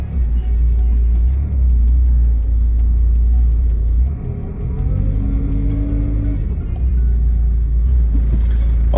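A car eased out of a tight parking spot gives a deep, close engine rumble that swells and dips as it maneuvers slowly for about nine seconds.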